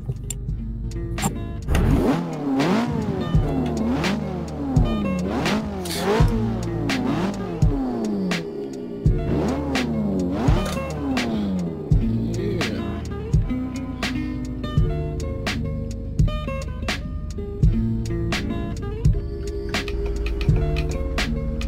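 Cars drifting in tandem, engines revving hard and repeatedly rising and falling in pitch, loud and continuous with overlapping engine notes throughout.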